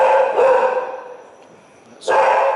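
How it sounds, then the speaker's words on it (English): An excited female dog barks and yelps close by indoors, two loud whining outbursts separated by a brief quieter gap. "Sorry about my dog."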